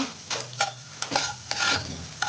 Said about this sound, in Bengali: ভালো করে নেড়ে নিচ্ছি